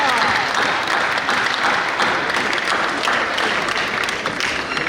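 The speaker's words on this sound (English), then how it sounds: "A round of applause." Audience applause at a symposium and book launch in Ghana, following a presentation to the Asante king. It is dense, sustained and steady from start to finish, with many hands clapping at once.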